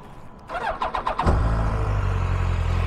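A BMW K1200GT motorcycle engine cranks with a rapid whirring starter for under a second, then catches and settles into a steady, loud, close idle that runs to the end.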